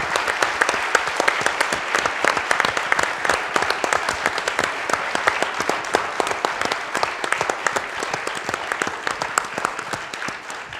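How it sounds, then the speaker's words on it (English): An audience applauds a former marketing education teacher at an alumni event, dense steady clapping that holds at full strength for about ten seconds and thins slightly at the end. "Please give him a round of applause."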